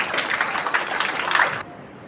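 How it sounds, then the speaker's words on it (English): An audience at a school farewell gathering claps as a round of applause, dense and loud before breaking off abruptly into quiet room tone. "Let's give them a huge round of applause as they share their words of gratitude."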